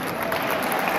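An audience at a school art fair opening, the first Expo Arte 2017, claps steadily in a dense, even burst of applause filling the room.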